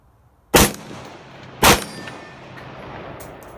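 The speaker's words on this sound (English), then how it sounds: "And the plate fell off on the first hit from the rifle." 5.56 rifle rounds striking a steel armor plate outdoors, two loud sharp cracks with a metallic clang about a second apart, then a fading ring and low background noise.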